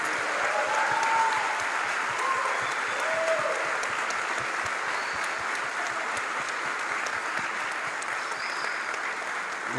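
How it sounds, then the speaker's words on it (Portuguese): A church audience claps steadily in sustained, fairly even applause at moderate distance, a dense wash of hand claps continuing for several seconds with a faint voice underneath. "Uma forte salva de palmas"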